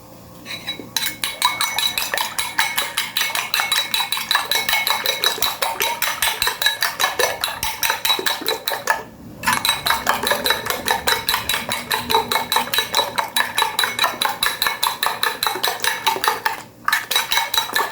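Bitter gourd (ampalaya) is beaten with salt in a bowl. A utensil clatters against it in a fast, steady rhythm, broken by two brief pauses, loud and close throughout.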